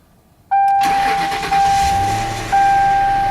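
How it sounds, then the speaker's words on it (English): A 2002 Mercury car engine cranks and catches at about half a second, then settles into a steady loud idle with a whining tone and a couple of small surges. "Let's fire this thing up and see how it runs."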